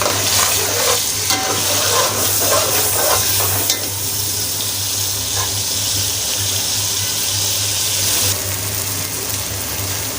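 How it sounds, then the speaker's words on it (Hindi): Ground onion and tomato paste fries in ghee with a loud, steady sizzle and bubbling, while stirring scrapes through the pan for several seconds. "ये प्याज जो मैंने ग्राइंडर करी थी वो घी में काफ़ी ब्राउन हो गई"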